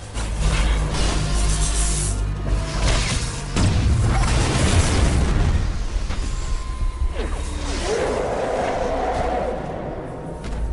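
Power plant explosion from the film Alien vs Predator Requiem, a loud booming blast with crashing debris, mechanical clatter and whooshing that gradually subsides, with faint voices mixed in.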